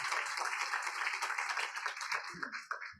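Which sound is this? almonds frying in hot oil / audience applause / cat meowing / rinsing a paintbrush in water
audience applause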